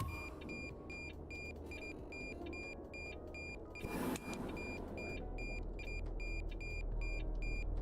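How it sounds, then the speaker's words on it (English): A truck idling in a modded video game gives off a repeated electronic beep, steady and rhythmic over a low engine rumble, fairly faint and with no talk. "This truck is beeping. It must be the mod that's causing the beeping sound."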